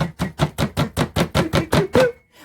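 Chicken breasts are pounded flat with the side of a frying pan: nine loud, evenly spaced thumping whacks in quick succession, each a short dull slap, then a brief fade.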